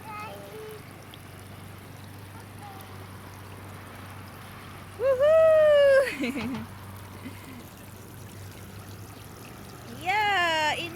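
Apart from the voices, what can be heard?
water splashing from a toy water slide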